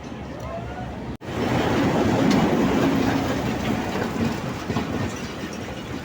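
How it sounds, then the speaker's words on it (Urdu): A passenger train rolls into a crowded station on the Malakwal to Faisalabad line, a loud rumbling roar with rhythmic clatter that starts abruptly and holds steady, nearby and dense. "دیر میں ٹرین آنے والی ہے اور پھر ہمارا سفر شروع ہو جائے گا۔"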